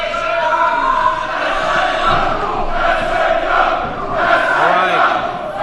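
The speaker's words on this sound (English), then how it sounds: "Here comes the crowd support." A wrestling show crowd roars and shouts in support, a dense sustained wall of cheering voices that swells and dips, loud and close throughout.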